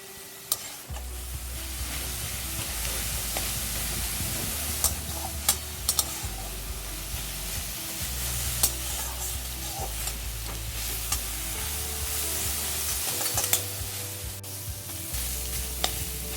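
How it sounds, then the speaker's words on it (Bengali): Data shak greens are stirred and fried in a pan over medium heat after their water has nearly cooked off. A steady sizzle continues throughout, broken by repeated scraping and clicking spatula strokes, moderately quiet, with no talking. "মিডিয়াম আঁচে প্রায় 1 মিনিট ধরে শাকটাকে ভালো করে নেড়ে মিশিয়ে দিলাম খুব সুন্দরভাবে"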